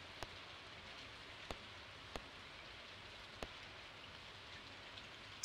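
Rain in Stardew Valley falls as a soft, steady hiss throughout, quiet and even, with a few sharp faint ticks spaced irregularly across the span.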